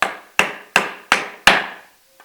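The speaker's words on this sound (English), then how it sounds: "I have a tight fit that needs driven up with a mallet." A wooden mallet drives a tight mortise and tenon joint together in five sharp, loud blows at a steady rhythm, each ringing briefly before the next, followed by a faint light tap.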